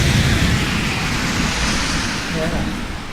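Heavy rain pours outside in a dense, continuous hiss and rumble. It stays loud and steady and eases only slightly toward the end, and a voice may be faintly present underneath.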